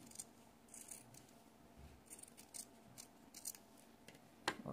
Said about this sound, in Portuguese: Vou recortar aqui em cima desse risco.